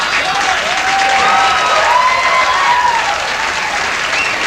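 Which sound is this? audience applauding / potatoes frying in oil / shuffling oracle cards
audience applauding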